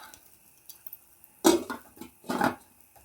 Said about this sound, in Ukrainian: А ці зараз я накрию кришечкою